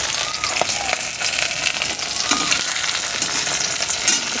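Fish coated in ginger, garlic, lemon juice, salt, turmeric and cornflour or rice flour fries in hot oil, giving a loud, constant sizzle and crackle close by, with occasional spatters and stirring clinks.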